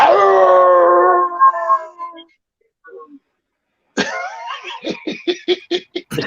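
A man imitates a werewolf howl with a long, wavering voiced cry that fades out, then after a pause breaks into a second howl dissolving into choppy, laughing bursts.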